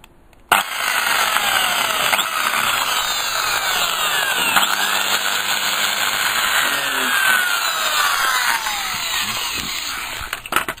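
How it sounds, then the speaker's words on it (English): A power drill whirs steadily into wood for several seconds, close by, with a grinding, rasping tone and a short pause near the start. "What you want to do now is just drill a wee."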